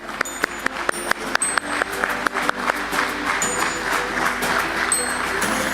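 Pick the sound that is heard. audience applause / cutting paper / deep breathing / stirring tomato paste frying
audience applause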